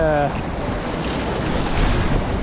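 Strong wind of 23 to 28 knots roars over sea surf aboard a sailboat on the Pacific between Hawaii and Kodiak Island, a dense steady rush of noise with wind buffeting the microphone throughout.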